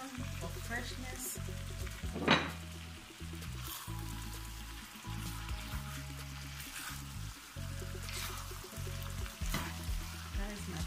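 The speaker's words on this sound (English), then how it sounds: "I'm going to add the shrimps and fishes into it. I'm going to add your onion for freshness." Shrimps, fish and onion fry in a Nigerian eggplant sauce, giving a soft, continuous low sizzle and bubbling with occasional stirring clatter, fairly quiet in the background.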